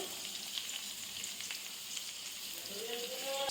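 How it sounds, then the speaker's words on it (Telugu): Cumin, mustard and fenugreek seeds sizzle steadily in hot oil in a pan for an ivy gourd chutney, a close, continuous frying hiss with faint crackles throughout. "ఇప్పుడు దీంట్లోకి మనం కొంచెం జీలకర్ర, కొంచెం ఆవాలు, కొన్ని మెంతులు,"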